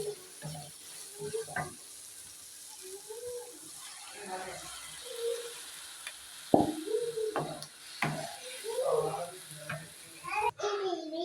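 Dried fish shutki fries with onion in a pan before broth goes in, a low sizzle under frequent speech, with a louder splash and hiss partway through as liquid is added.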